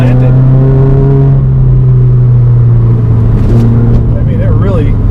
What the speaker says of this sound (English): I can just floor the gas and the car just stays planted.